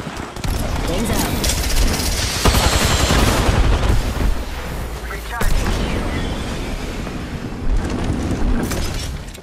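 Rapid gunfire bursts and booming impacts in the Apex Legends battle royale game, loud and dense, with sharp volleys recurring and game voice lines mixed in.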